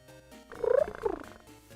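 Cats purr on a cat tree: a low, rumbling purr rising to a louder pulsing swell and easing back, close by over a soft hum of background music.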